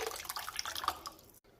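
Tamarind water mixed with rice-washing water pours into a pan of sautéed tomatoes for kazhani rasam, making a close splashing gurgle for about a second before the pour tapers off and stops.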